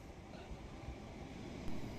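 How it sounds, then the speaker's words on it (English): A Southern Rail Class 377 electric train arrives at Dorking station, heard as a steady, low, faint rumble and hiss of the train with no speech. "Our train arrives into Dorking on time at 14:36."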